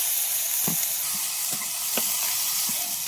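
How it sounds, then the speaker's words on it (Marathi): Washed, cut field beans are sautéed with spices in a hot pan, a steady close sizzle with periodic scraping stirs of a spatula, no talk. "जे धुतलेल्या ते शेंगा होत्या ना कापलेल्या ते टाकून घेतो आणि मस्त परतून घेतो"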